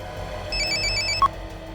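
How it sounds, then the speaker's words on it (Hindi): A telephone rings in a tense indoor scene, a repeated electronic trill of several quick pulses over low background hum, followed by a short sharp beep. "किसका फोन है?"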